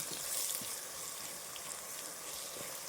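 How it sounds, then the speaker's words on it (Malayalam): Ground spices and masala for chicken biryani fry in oil, a faint, steady sizzle with soft crackling pops at a distance and no talk. "അത് ആ എണ്ണയിൽ കിടന്ന് അതും കൂടി ഒന്ന് മൂത്ത് വരട്ടെ."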